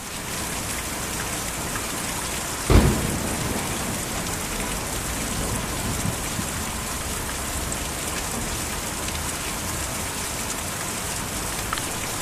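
Steady heavy rain falls in Kentucky Route Zero, a dense even hiss throughout, with one sharp crack near the start and no voices.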